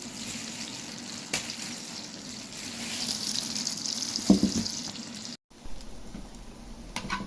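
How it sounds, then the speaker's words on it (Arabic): Mixed vegetables frying in melting cubes of butter for a home-style Egyptian taro and greens dish, a steady close sizzle and bubbling with soft stirring, a brief utensil knock midway and a short drop to silence near the end. "وهنا حاطه مكعبات زبده اعمل فيها الخضره."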